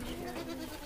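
A goat bleats once on a goat farm on a cold day, a short nasal cry heard close and fairly loud.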